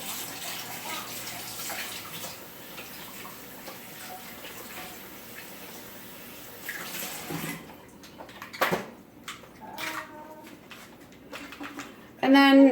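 Tap water runs steadily while raw chicken is rinsed in a kitchen sink, a soft continuous splash that gives way to scattered splashes and clatter.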